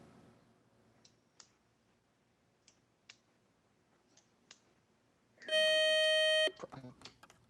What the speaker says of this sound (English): that buzzer is the end of our first toss-up round